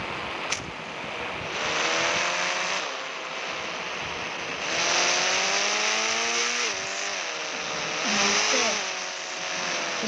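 A Lamborghini in the Indian Bike Driving 3D game revs its engine in repeated rising surges, a loud synthetic whine that swells and drops three times with no talking.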